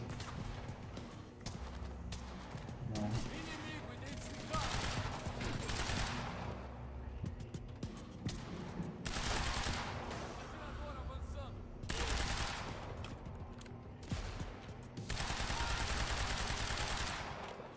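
Gunfire from the video game Quantum Break, played on the hardest difficulty, comes in repeated bursts of shots across the whole stretch, loud and close, with game sounds between the volleys.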